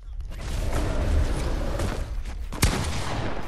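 Gunshots in the battle royale game Fortnite, a dense rapid stream of firing that grows and holds steady, topped by one sharp, louder report near the end.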